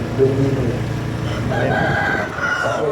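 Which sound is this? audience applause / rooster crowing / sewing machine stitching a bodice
rooster crowing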